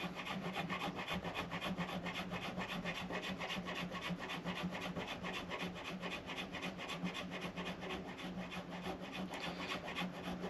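A file rasps in short, rapid, evenly repeated strokes across a guitar nut slot. The strokes sound close but quiet, with no talk.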